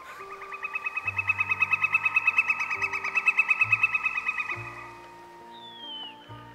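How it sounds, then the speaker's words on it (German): Birds in the hunting game Way of the Hunter give a rapid, pulsing series of loud hoot-like calls for several seconds, then a short high whistle, over a steady low musical drone. "Vögel eskalieren ja aber auch immer völlig mit ihren Geräuschen."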